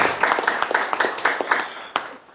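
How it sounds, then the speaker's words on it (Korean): Conference audience breaks into applause to welcome a guest speaker, a dense run of claps in a hall that holds steady and then fades out over a couple of seconds. "박수를 한번 맞아주시기 바랍니다."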